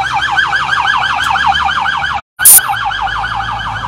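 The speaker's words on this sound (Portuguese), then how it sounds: "Olha, a ambulância vai saindo." An ambulance pulls away from the scene of a serious traffic accident, its loud, close siren wailing in a fast rising-and-falling cycle. The siren drops out briefly, gives a short harsh burst, then resumes.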